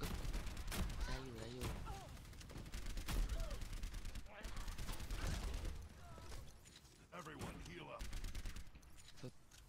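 Rapid gunfire bursts from a match of the video game Overwatch, repeated shots and impacts in a busy game mix beneath excited talk from a player.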